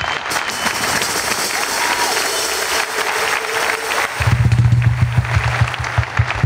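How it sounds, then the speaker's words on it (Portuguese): A roast audience applauds and cheers for the honoree Fernando Rocha, a dense wash of clapping filling the room, joined near the end by a low steady hum. "uma grande, grande salva de palmas para ele"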